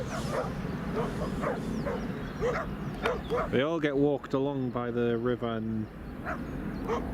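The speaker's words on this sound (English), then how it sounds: "Sorry for the dog noise of them barking in the background." Several dogs barking and yipping near a riverside walk in the early morning, a run of loud, rapid barks in the middle with someone talking before and after.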